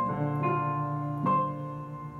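Piano playing a slow section of a piece from Game of Thrones, with sustained, soft notes and two gentle new strikes ringing out, quiet and alone.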